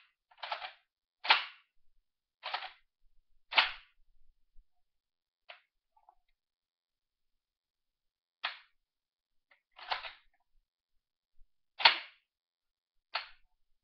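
A Remington 11-87 police shotgun's action is cycled and dry-fired after reassembly, producing about nine sharp metallic clacks and snaps spaced irregularly across quiet gaps.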